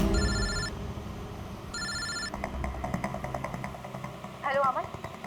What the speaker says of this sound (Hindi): मैंने अमन को फोन किया।